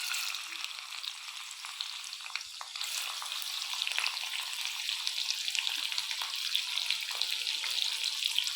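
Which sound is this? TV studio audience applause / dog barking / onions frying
onions frying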